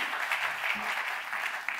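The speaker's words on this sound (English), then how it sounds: "you can still clap." An award show audience applauds with a dense, steady wash of clapping that carries on throughout, fairly distant and filling the room.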